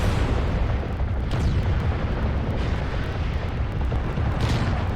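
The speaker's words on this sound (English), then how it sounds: "a lot of these LRMs are going into that barrier" Long-range missiles from a mech battle in MechWarrior Living Legends pound a barrier, a continuous dense rumble of overlapping explosions and booms, loud and sustained with no clear gaps.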